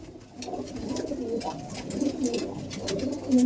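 Several pigeons in a loft, including Chotiyal and Madrasi breeds, with soft low cooing that overlaps continuously nearby and grows slightly louder toward the end.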